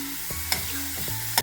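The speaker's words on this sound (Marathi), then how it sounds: "कांदा पण आपण परतून घेतो." Chopped onion with a pinch of salt sautéing in a tempering pan for curd pithla, close up: a soft steady sizzle with a few sharp spoon clinks and scrapes against the pan.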